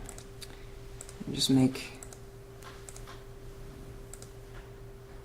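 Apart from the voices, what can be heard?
typing on a computer keyboard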